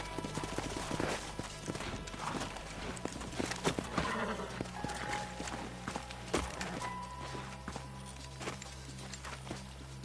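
Horses' hooves clip-clop steadily in Red Dead Redemption as riders slow near the old Pleasance house, a continuous busy patter of hoofbeats mixed with other game sounds.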